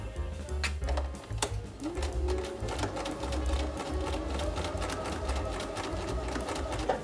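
Sewing machine stitching with a fast, steady mechanical whir and rapid needle ticks, close and continuous, with occasional sharper clicks over a low motor hum.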